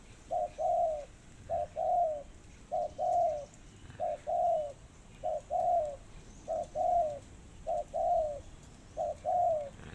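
Two decoy doves coo over and over, about ten paired calls in a steady, even rhythm, clear and fairly close against faint background noise.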